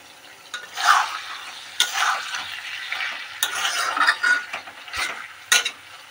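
Food in a pan stirred with a utensil after the lid comes off, with soft scraping strokes over a faint sizzle, a few sharper clinks of metal against the pan, no talking.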